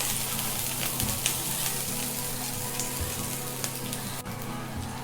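Chopped onion and chili fry in a little oil for beef noodles, giving a steady, close sizzle that runs unbroken from start to finish.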